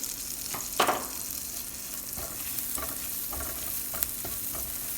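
Green chili and garlic fry in melted butter in a pan, a steady soft sizzle broken by several short scraping stirs of a spoon, fairly quiet and close.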